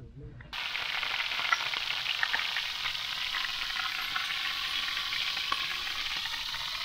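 Fried noodles, chicken and egg sizzle steadily in a pan on a camp stove outdoors on a mountain, a dense continuous hiss starting abruptly and holding close and even for several seconds.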